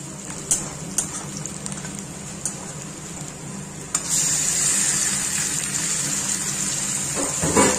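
Marinated meat goes into a hot pan at a home birthday cooking session, a few clinks and stirs followed by a sudden loud, steady sizzle that keeps frying strongly to the end.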